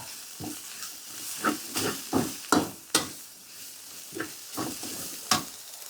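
Red curry chili paste and sun-dried pork are stir-fried in a pan, a spatula scraping and tossing in irregular bursts over a low sizzle, with no talking.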